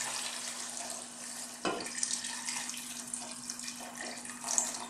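Water pours and splashes into a pot of Filipino mussel soup with fish sauce, pepper and salt, a steady close hiss with a sharper splash as the stream starts.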